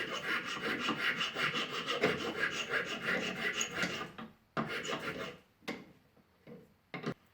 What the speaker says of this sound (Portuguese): Naturalmente a lima vai deixar umas marquinhas, mas ela já se aproxima do formato que a gente quer.